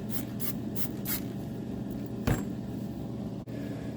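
Rust paint is sprayed from an aerosol can onto parts of a 1964 Mercury Comet Caliente in a garage: several short, close hissing bursts, then one longer spray and a small knock.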